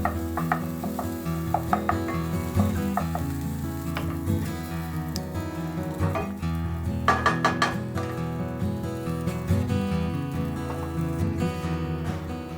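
Onions cook in a pan with a soft, continuous sizzle, accompanied by occasional clinks and scraping from stirring, close and moderately quiet, with no talking.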